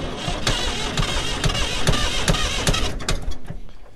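An auction machine's engine cranks and fires up with a rapid, regular mechanical knocking beat, loud and close, the rhythm running steadily before loosening near the end.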